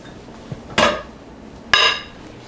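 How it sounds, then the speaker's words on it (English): A metal spoon drops into a kitchen sink with two sharp clattering hits about a second apart, the second louder, in a quiet kitchen. "Let me go ahead and get this spoon out of here. This is going to go into my sink."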